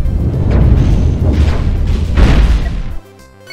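Ship weapons in the space game Cosmoteer fire on an enemy gun, three loud rumbling booms with blasts overlapping across a few seconds, then the sound drops off sharply.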